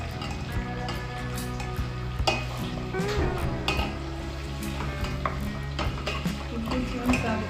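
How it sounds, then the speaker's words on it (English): Beef pieces deep fry in plenty of hot oil for a meat stew, crackling and sizzling continuously at close range with occasional scrapes and clinks of stirring in the pot. "So you fry your beef like this till it's golden brown."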